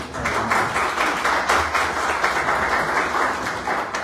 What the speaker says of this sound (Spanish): les pido una bienvenida y un aplauso